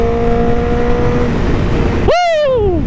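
A 1000cc motorcycle engine screams close by in a loud sustained roar, its pitch rising sharply near the end in a high-revving howl that then slides back down.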